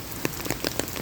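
Rain from a strong typhoon falling steadily on a surface nearby, a dense hiss with scattered sharper drops pattering irregularly.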